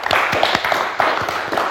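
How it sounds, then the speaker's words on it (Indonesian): Studio audience claps in a quick burst of applause for a guest at the close of a talk show, a handful of distinct, fairly close hand claps rather than a dense roar, heard briefly on its own. "boleh tepuk tangan untuk Luna Maya"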